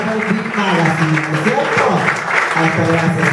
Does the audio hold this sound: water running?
no